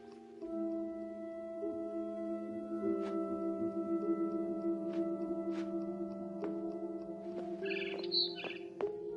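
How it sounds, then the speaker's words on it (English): A barn swallow chirps outside a window in the game What Remains of Edith Finch, with short bright tweets, the busiest burst near the end, set over a sustained tonal musical score. "Then I heard chirping outside my window. It was a barn swallow going back to her nest."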